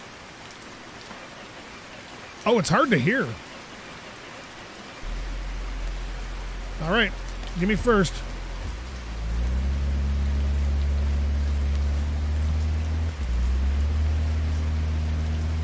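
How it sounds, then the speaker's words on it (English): Steady rain noise in the garage-restoration game My Garage, a broad hiss that thickens into a constant low roar partway through, with a voice speaking briefly over it early on. "Get out of the rain for a minute."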